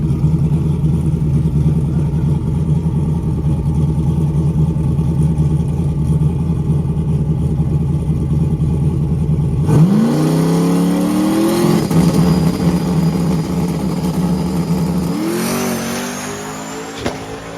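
A small-tire drag racing car launches and makes a full pass at Penwell, its engine roaring loud and steady before climbing through sharp gear-change sweeps, with brief traction-control stutter, then fading as it runs out down the track.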